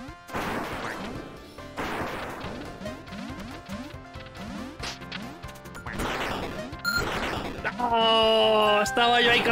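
Landmine explosion in the Duck Game video game: several sharp crashing bursts among cartoonish game effects, with excited talk over them.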